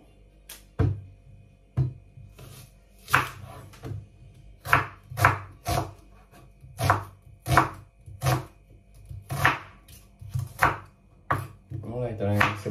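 Onion chopped on a cutting board for pork ginataan with squash, about fifteen crisp knife thunks falling in a steady, fairly quick rhythm, close and clear, with a faint voice in the background.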